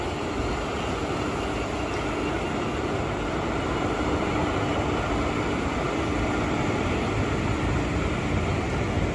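A train pulling out of Pakala Junction, heard as continuous loud rolling rumble and broadband rail noise, steady throughout with no speech.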